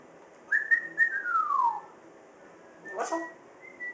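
A pet parrot gives a clear, close whistle of short rising notes and a long falling glide, then a brief second call after a pause, in a quiet room.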